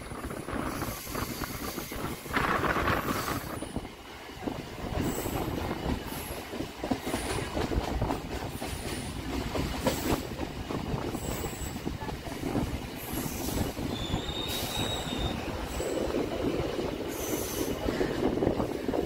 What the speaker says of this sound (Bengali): ট্রেন ঢুকছে বিবেকানন্দ সেতু বা বালি ব্রিজে।